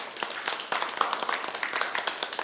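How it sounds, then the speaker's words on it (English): An audience at a live body language show claps in a dense, fairly quiet patter of many hands, a short burst of applause with no cheering. "big round of applause for that one."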